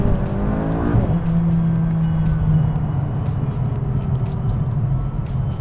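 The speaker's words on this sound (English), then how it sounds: "It's got a very different exhaust noise to it. I'll just give you a little bit of noise." A 2019 McLaren 570S engine and exhaust rev loudly up close, a rising tone that swells in the first second and then holds a steady, rumbling drone.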